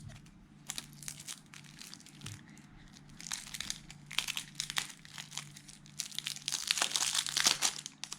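Sticky plastic shrink wrap crinkles and tears as it is peeled off a sealed trading card game deck, close and crisp, in irregular crackling bursts that grow busier toward the end.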